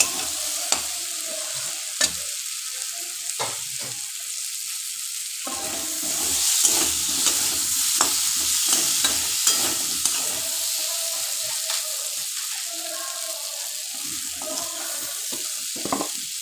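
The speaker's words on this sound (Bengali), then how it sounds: "আলুটা মশলা থেকেই ভাজা হবে, মশলাতেই কষানো হবে।" Potatoes fry in spices for a prawn and potato curry, with a crackling sizzle and repeated spoon scrapes that quiet briefly early on, then return as busier stirring, with no talk.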